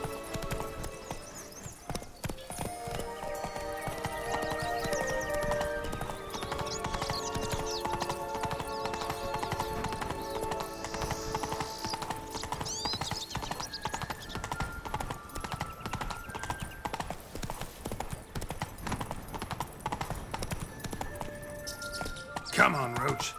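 A horse gallops in The Witcher 3: Wild Hunt, its rapid, steady hoofbeats pounding continuously under in-game music and sound, with a brief whinny-like cry near the end.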